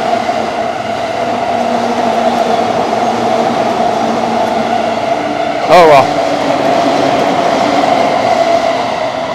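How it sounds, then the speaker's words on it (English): A Rapid train on a Tokyo rail line passes a station platform with a loud, steady rumble and a sustained whine, and a brief rattle near the middle. A voice speaks briefly over it. "That was the train I was supposed to get."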